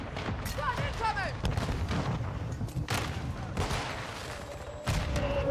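Mortar strike explosions in Call of Duty Modern Warfare 2, a dense string of booms and bursts over several seconds, loud and close, mixed with game chatter and voices.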